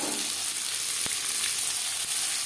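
Chopped onion frying in hot oil for an aloo mutton curry, a steady close broadband sizzle with a couple of brief sharp pops, no voices.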